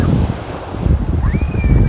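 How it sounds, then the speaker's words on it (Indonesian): Big ocean waves roll and crash at Sundak beach, a loud, steady wash of surf with wind buffeting the microphone. "Ombaknya terlalu besar"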